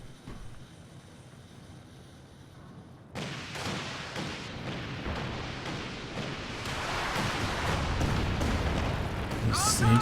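Mortar fire and shell explosions rumble through a Company of Heroes 2 battle, a low thudding barrage that grows louder and denser over time, beneath a commentator talking continuously.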